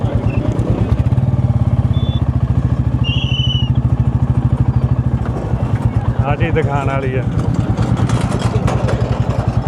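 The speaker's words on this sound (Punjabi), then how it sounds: "ਮੋਟਰਸਾਈਕਲ ਹੀ ਮੋਟਰਸਾਈਕਲ ਨੇ" Motorcycles idle at a Sikh religious gathering at Dhamdhan Sahib, one nearby with a steady, fast chugging pulse throughout, while people talk over it and a few faint chirps appear.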